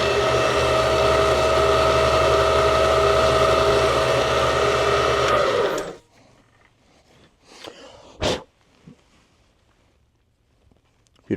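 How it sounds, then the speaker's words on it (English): A homemade inside diameter sander running with a loud, steady whining motor hum for about six seconds before cutting off abruptly, followed by near silence broken by a few faint knocks and handling clicks. "And you got yourself an inside diameter sander"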